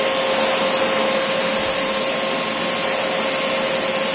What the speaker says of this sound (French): je suis en mode aspiration.